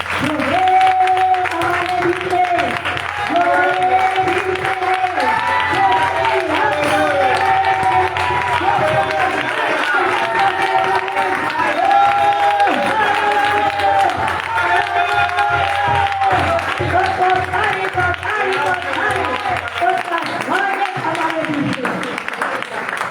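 A church congregation breaks into loud, sustained applause in praise of God during worship, a dense wash of clapping running throughout with crowd voices and sung or shouted tones rising over it.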